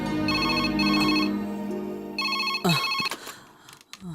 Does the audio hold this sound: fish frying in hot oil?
no